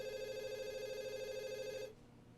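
A telephone rings once with a steady, buzzy electronic tone for about two seconds before stopping, faint and alone.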